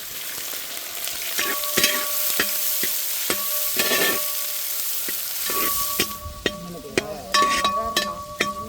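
One large onion goes into hot gingelly oil with cardamom and cloves over medium heat for a snake gourd fry, giving a steady sizzle broken by repeated sharp clicks and scrapes of a spoon stirring in the pan.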